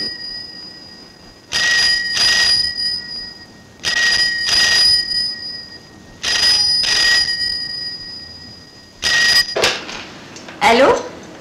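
A telephone rings in four repeated double bursts with pauses between, loud and close, followed by voices speaking.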